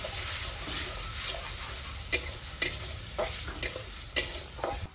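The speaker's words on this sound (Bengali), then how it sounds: "বন্ধুরা কেটে রাখা টমেটো দেবো, ভালো করে কষিয়ে দেবো।" Chopped tomatoes sauté in a pan with ginger and green chili paste, a steady soft sizzle under periodic scraping stirs of a spatula, close and moderate in level.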